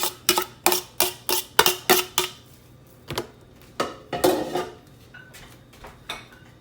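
Pre-cooked fried eggs go into stir-fried Mej Khuam noodles in a pan, with a quick run of sharp metallic clinks and taps of utensil against pan that thin out into scattered knocks.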